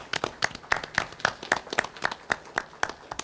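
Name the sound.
applause at a town meeting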